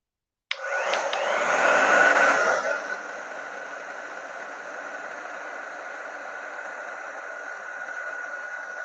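A handheld dryer on its cool setting, aimed at a Christmas tree craft cut-out near a transfer. It starts with a click, surges loudly for about two seconds, then settles into a steady, softer whir that runs on alone.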